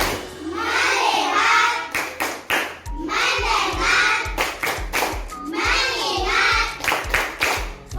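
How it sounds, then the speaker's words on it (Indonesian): A class of schoolchildren performs a rhythmic focus clap, chanting words in unison between sharp patterned bursts of hand claps, repeated three times in a steady sequence. "coba tepuk fokus"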